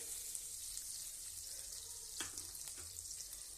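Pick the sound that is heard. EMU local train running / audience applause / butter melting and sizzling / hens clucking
butter melting and sizzling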